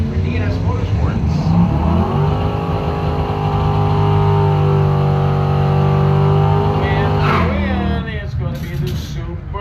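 Two drag racers, a 1997 Subaru Legacy and a 1995 GMC Sonoma, launch and run together at a bracket drag strip, loud engines droning steadily and rising in pitch over several seconds under a track announcer's voice.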